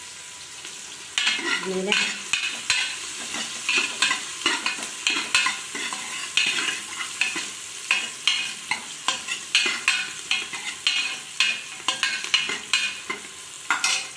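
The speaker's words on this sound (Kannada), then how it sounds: "ಚೆನ್ನಾಗಿ ಕೆಂಪು ಬಣ್ಣ ಬರೋವರೆಗೂ ಫ್ರೈ ಮಾಡ್ಕೊಳ್ಳೋಣ ಈರುಳ್ಳಿ ಬೆಳ್ಳುಳ್ಳಿ" Onion and garlic fry in a pan while a spoon stirs in a steady rhythm of sharp scraping strokes over a constant sizzle, with a brief spoken word.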